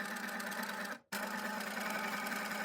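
A sewing machine stitching tucks in striped fabric runs at a steady fast whir, pausing abruptly for a split second before resuming the same even mechanical hum.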